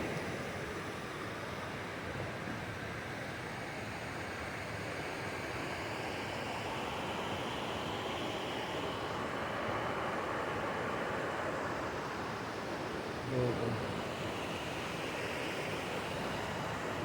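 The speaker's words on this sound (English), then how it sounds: "Every 100 feet, there's a new waterfall." A waterfall in Great Smoky Mountains park near Gatlinburg, Tennessee, rushes as a steady, broad roar of falling water, constant and fairly close throughout with no other sounds standing out.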